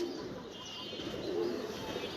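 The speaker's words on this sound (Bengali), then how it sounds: "দেখেন, আমার 200+ কবুতর" Pigeons in a loft of more than two hundred birds coo softly and continuously, a faint murmuring blend with no talk over it.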